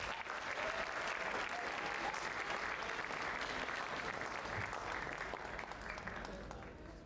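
A high school audience at a senior recognition night applauds award recipients, with dense, sustained clapping for about seven seconds that holds steady and tapers slightly at the end, heard at moderate distance.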